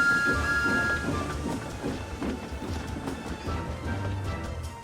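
A Thomas the Tank Engine Trackmaster toy train runs along its track, giving a continuous mechanical rumble and clatter at moderate level with no voices.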